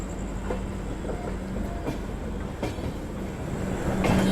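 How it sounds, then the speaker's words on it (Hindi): Goods trains waiting and moving through the vast Pandit Deen Dayal Upadhyaya yard, once Mughal Sarai, give a steady rolling rumble with a few sharp wheel clicks and a faint high squeal, building slightly louder toward the end. "देखिए कितनी सारी गुड्स ट्रेन यहाँ पे वेटिंग में, आगे भी आ रही हैं, अराइवल डिपार्चर हो रहा है।"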